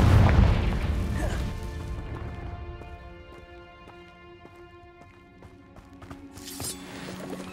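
The Confringo spell in Hogwarts Legacy goes off in a heavy, booming blast that decays over a couple of seconds into a ringing, metallic shimmer, followed by light footsteps and a faint magical chime.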